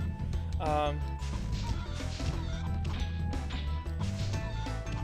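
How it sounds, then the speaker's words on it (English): Clucking and squawking chickens being smashed in Spyro the Dragon, with thuds and crashes over a steady background music track, fairly loud and repeated through the passage. "Kill the chickens."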